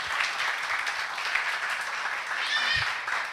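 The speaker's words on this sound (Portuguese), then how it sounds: "Mais um aplauso ao Senhor." A church congregation applauds in praise, a broad, steady wash of clapping that holds for several seconds with no voices over it.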